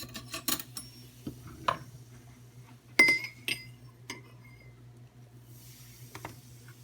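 A spoon clinking against glassware during a bubbling science experiment: a few sharp, scattered taps and clinks, one louder strike midway, over a faint steady hum and quiet background.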